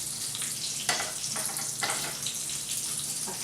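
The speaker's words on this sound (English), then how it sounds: "I'm going to go ahead and put my onions down in here." Onions hiss and sizzle in a very hot pan, a loud steady frying roar with brief surges, heard alone without talk.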